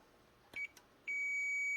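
A short electronic beep from a multimeter continuity test on a La Pavoni lever espresso machine, then a second steady high-pitched tone that starts and holds, thin and clear against a quiet background.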